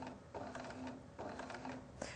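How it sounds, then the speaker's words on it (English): A sewing machine stitching quilting fabric runs in short bursts of rapid mechanical chatter, pausing briefly between runs, close and moderately loud with no talk. "So we're just going to grab hold of our threads and we'll start sewing."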